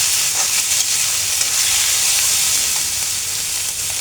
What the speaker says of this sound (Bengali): রসুনের যে কাঁচা ভাবটা সেটা চলে যাবে একটু হালকা করে ভেজে নেব।